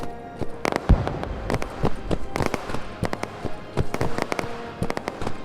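Guns fire in Operation: Harsh Doorstop, a desert battle between US and Soviet forces. Sharp, scattered shots crack in irregular bursts, some close and some distant.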